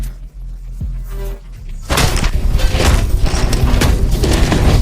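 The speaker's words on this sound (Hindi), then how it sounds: "फिर भयंकर गोलीबारी शुरू हो गई।" Sudden loud burst of heavy gunfire and explosions in a film shootout scene kicks in after a quieter opening, continuing as a dense, chaotic barrage.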